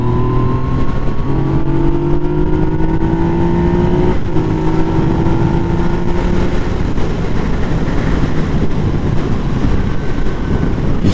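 A 2017 Yamaha FZ/MT-09 motorcycle with its stock exhaust growls at close range while being ridden. The engine holds a steady, throaty drone with tones that slide up and down, all under a constant wash of wind buffeting.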